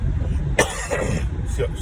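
A single short cough breaks into ongoing speech, close and fairly loud, with talking continuing right after.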